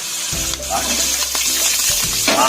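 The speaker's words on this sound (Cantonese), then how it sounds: "而家我哋落1嘅湯羹嘅油落去，爆一爆啲蒜蓉先" Minced garlic sizzles and spits in hot oil in a pan, a steady close frying hiss with a few light scraping stirs of a spatula, no voices over it.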